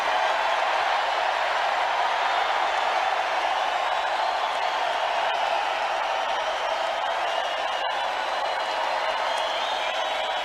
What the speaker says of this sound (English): Just listen to that crowd, though.